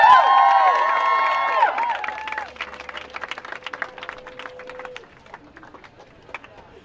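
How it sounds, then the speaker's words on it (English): Crowd clapping at a protest by survivors against a Senate confirmation, scattered claps that thin out, following fading sustained tones at the start. "Let's give them a round of applause."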